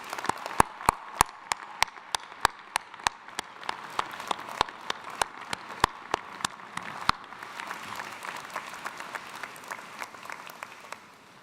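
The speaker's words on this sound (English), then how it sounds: "warm applause?" At a 2022 commencement ceremony in Gentile Arena, sharp evenly spaced claps ring out at first, then more hands join and the sound thickens into a broader, moderately loud arena applause.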